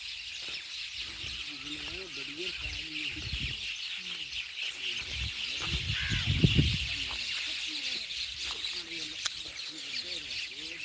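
Birds chirp and call outdoors in short repeated bursts, with people talking nearby over them.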